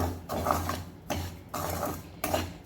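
Semolina (rava) and powdered sugar are sautéed together in a pan. A spoon scrapes it in a steady repeating rhythm, about four strokes in under three seconds, close and moderately loud, with no talk.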